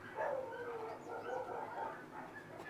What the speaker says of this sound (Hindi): बाहर कुत्तों की लड़ाई शुरू हो गई बहुत सारी